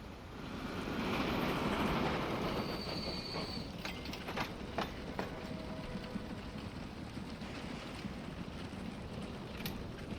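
Trains roll along rails in the Transport Fever 2 video game, a continuous rumbling wash with faint clicking and squealing wheel sounds, fairly quiet and steady, with no voices.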